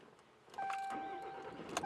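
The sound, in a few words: 2017 RAM 3500 SLT truck engine starting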